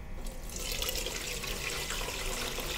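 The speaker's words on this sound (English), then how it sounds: "pour the chicken stock through the strainer again" Homemade Chinese chicken stock poured through a strainer, a steady close splashing stream of liquid running without pause and without voices.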